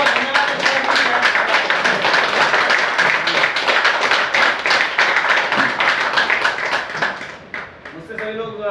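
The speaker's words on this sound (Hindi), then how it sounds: "तो एक बार जोरदार तालियां यशपाल जी के लिए।" Audience applause at a gathering: loud, dense clapping from a roomful of people for about seven seconds, then fading out as a voice begins speaking at the end.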